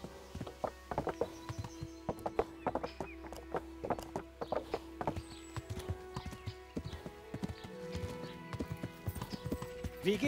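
Horse hooves clip-clop at a steady walking rhythm, close by, with occasional snorts and a whinny among the clatter, in the video game Kingdom Come: Deliverance.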